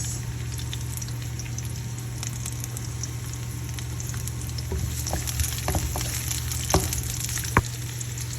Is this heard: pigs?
no